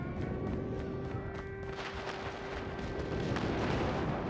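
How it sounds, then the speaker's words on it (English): Airstrike explosions in Call of Duty Mobile rumble in a low, continuous roar with scattered gunfire pops, the booming building steadily toward the end. "Friendly airstrike incoming."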